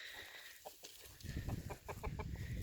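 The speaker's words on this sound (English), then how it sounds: "These are my roosters." Roosters and hens in a chicken tractor moving through a pumpkin patch, clucking and squawking close by in irregular bursts, growing busier and louder in the second half.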